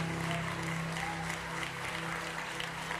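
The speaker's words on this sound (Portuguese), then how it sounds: "E aplauda o mais forte que você pode aos céus." A church congregation claps together in a steady, dense wash of applause, with faint voices mixed underneath.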